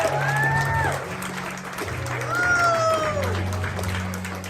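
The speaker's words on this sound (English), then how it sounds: "How about a nice round of applause for Harley and Justin on their wedding day." Wedding guests clap for the bride and groom, Harley and Justin, at an evening reception: a steady wash of applause from a crowd, with music playing over it.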